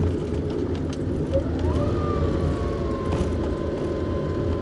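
A car engine-braking in second gear down a steep mountain road gives a steady, loud engine drone with a whine that rises and then holds, with no voices over it.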